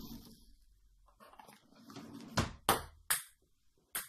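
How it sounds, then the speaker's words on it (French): Ping-pong balls clatter and bounce indoors, a few sharp separate clicks near the end over faint background rustling, spaced irregularly and fairly close. "Invasion de balles de ping-pong."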